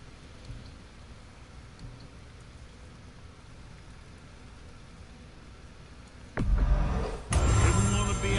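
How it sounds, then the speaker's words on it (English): Steady rain in a video game, a constant soft hiss of falling drops that swells sharply louder near the end as the downpour intensifies. "Oh, it's raining."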